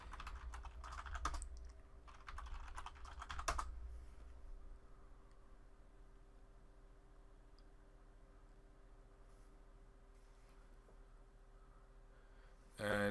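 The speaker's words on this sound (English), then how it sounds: "Let me type yes to agree to that." Quick bursts of typing on a computer keyboard while setting up a Cisco ASA, soft clustered key taps in a few short runs near the start, then near quiet with occasional faint clicks.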